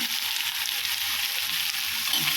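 Cooked taro root mixture, a tamarind-flavoured taro dish, is stirred in a hot pan, giving a steady close sizzle and frying hiss with soft scraping of the stirring throughout, no voices.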